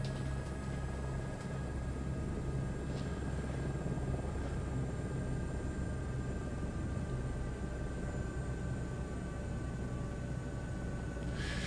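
A helicopter idling in Microsoft Flight Simulator 2024, heard as a steady, even engine and rotor drone with constant low rumble and faint high whine, continuous and unchanging throughout.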